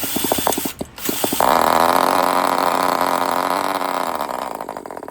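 A vintage Kyosho GT nitro model engine sputters through a few rapid pops, then catches and runs at a loud, steady high-pitched buzz close by, easing slightly toward the end.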